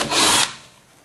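Short burst of a power drill cutting into the wood of a Kenya top bar hive, loud for under half a second and then trailing off into quiet.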